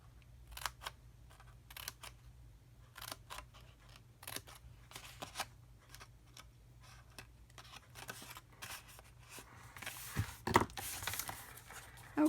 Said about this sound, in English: let's go ahead and cut our bottom part up